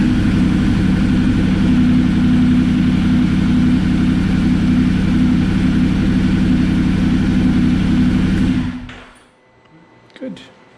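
A Ducati Multistrada Enduro motorcycle on a Shorai lithium battery turns over and runs with a loud, steady, throbbing engine drone for about eight seconds, then shuts off abruptly into near silence with a small knock afterward.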